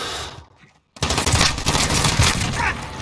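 Gunfire in a first-person shooter video game: after a brief drop to near silence, a loud, dense burst of rapid automatic shots erupts and keeps hammering close by to the end.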